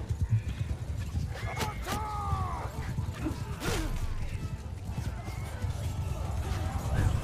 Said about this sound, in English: Oh, the horses are just destroying them.